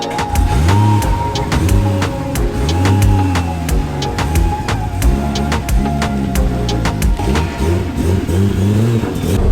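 A turbocharged sports car engine tuned past 1000 hp revs up and accelerates repeatedly, loud and close, its pitch rising and falling in waves over a steady rumble.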